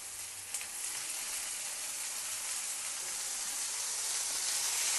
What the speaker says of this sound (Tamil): தக்காளி போட்டு நம்ம நல்லா ஃப்ரை பண்ணணும்.